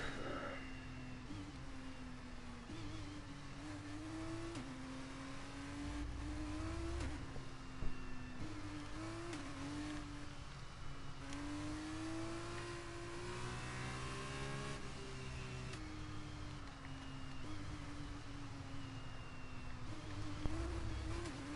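Race car engine from the F1 23 video game during an F2 driver career race, a steady high revving whine with shifting pitch as the car accelerates, continuous and loud with no talk.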